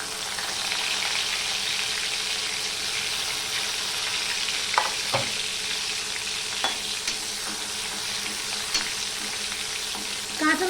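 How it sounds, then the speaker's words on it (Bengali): Garlic frying in hot oil with panch phoron five-spice, a steady bright sizzle throughout with a few small clinks and stirring knocks, close and uninterrupted. "পাঁচফোড়নটা আমার লাল লাল হয়ে গেলে গন্ধ বেরিয়ে গেলে আমি এই রসুনটুকু"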